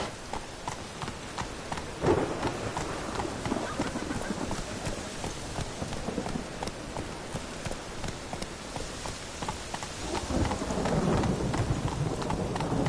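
A horse named Roach trots with clip-clopping hooves, its steady beat set against a constant rain-like wash and low rumbling background through the whole stretch.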